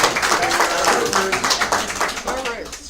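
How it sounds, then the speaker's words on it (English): A roomful of people at a business networking visitors' day meeting gives a short, dense round of clapping, close and lively, mixed with speech. "let's give Bruce a round of applause"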